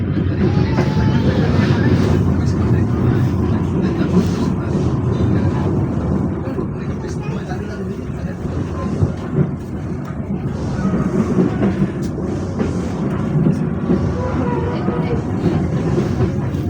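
The Pandanwangi passenger train from Jember to Ketapang rumbles steadily along the rails from start to finish, loud and close, with a low continuous roar and faint wheel clatter.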